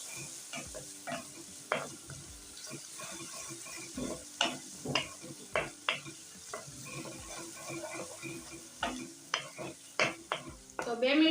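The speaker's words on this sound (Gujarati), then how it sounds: "હવે આપણે કાંદાને સરસ રીતના શેકી લઈશું" Onions sizzle softly in oil, fried until they change colour, while a spoon repeatedly scrapes and stirs the pan in uneven bursts.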